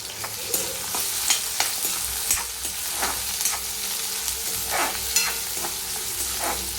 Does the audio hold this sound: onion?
yes